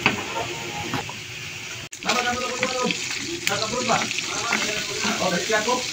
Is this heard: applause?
no